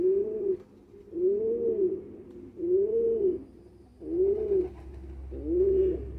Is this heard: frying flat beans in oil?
no